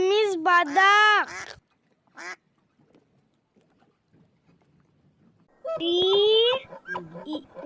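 Bright, nasal duck quacks arrive in a quick burst of several calls, then silence, then another run of quacks, close and clear with no voices over them.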